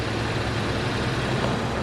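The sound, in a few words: BMW X5 air suspension pump running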